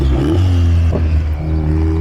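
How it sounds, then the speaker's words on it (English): Very loud Volkswagen car at an outdoor car show, a brief close rumbling engine with a throaty rev and some clatter, no talk. "Like this very loud Volkswagen."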